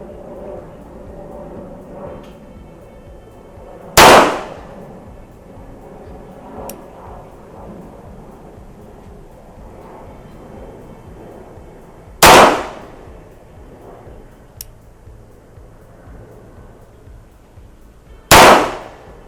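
Three loud, sharp gunshots from a Taurus PT99 pistol fired at a range target, spaced several seconds apart, each a sudden broadband crack with a quick decay over quiet background.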